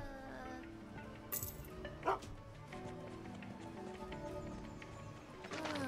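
A dog in the video game Final Fantasy VII gives a short bark or yip around the middle, a brief bright burst standing out over steady game music and ambience.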